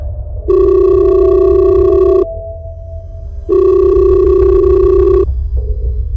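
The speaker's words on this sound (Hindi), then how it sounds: "पॉकेट में रखा उसका फोन दोबारा बजा" A phone in a pocket rings in two long electronic bursts separated by a pause, loud and close, with a quieter steady tone between them.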